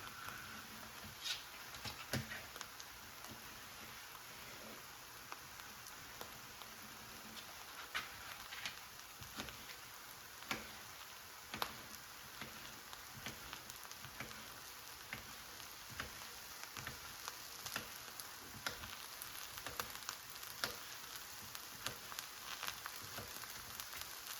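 Zucchini and eggplant slices pan-frying, giving a steady fine crackle and patter of oil with scattered louder pops throughout, close and fairly quiet with no talking.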